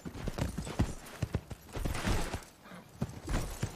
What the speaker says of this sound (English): That's a hell of a horse.